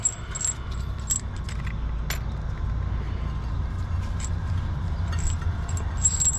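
New metal wheel bearing bolts for a Ford Transit clink and jingle as they are handled, with scattered light metallic taps over a low steady rumble in a garage.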